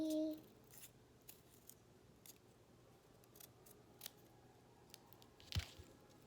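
Scissors snip fabric for a small handmade stuffed toy, with faint isolated cuts spaced irregularly over a quiet room, one louder snip near the end and a brief tone at the start.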